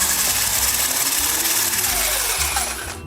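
Electric mixer whisking cream on a low setting for crepes, a steady whirring motor drone with a dense high hiss, close and continuous, winding down at the end.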